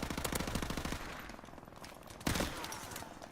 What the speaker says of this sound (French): C'est passionnant de tirer sur les gars et qu'ils prennent pas les balles.